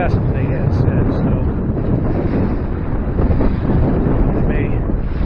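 A strong west wind buffets the microphone aboard a Siren 17 sailboat on Lake Erie, a loud, steady roar with gusty surges, and faint water and boat sounds beneath it.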